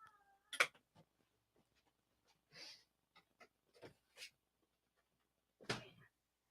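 A domestic cat meows several times in short separate calls, fairly close, with quiet gaps between them and no talking.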